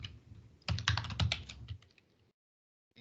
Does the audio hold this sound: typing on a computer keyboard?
yes